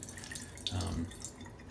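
Water drips and trickles briefly into shaving soap during lathering, a soft, close splash in the middle of an otherwise quiet moment.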